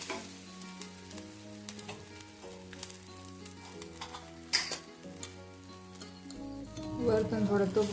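Thin dosa batter sizzles on a hot pan, a soft crackle that swells toward the end, with faint utensil taps and background music throughout.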